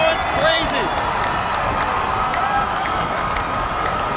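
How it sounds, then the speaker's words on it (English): A crowd at a high school state championship football game between Kahuku and St. Louis cheers loudly and steadily, a dense roar with whistles and shouts over distant announcer talk. "The crowd going crazy."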